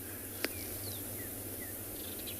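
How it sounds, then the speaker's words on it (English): Faint, thin bird calls, including magpie shrikes, and short chirps over a steady insect hum outdoors on a morning safari in South Africa, with one sharp click near the start. "You can hear a lot of birds calling around"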